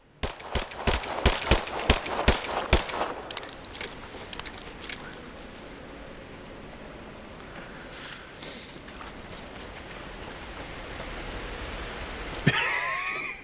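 Gunfire in Rise of the Tomb Raider: a rapid burst of about a dozen sharp shots opens, then fades into a soft rain-like hiss with a brief clatter near the end.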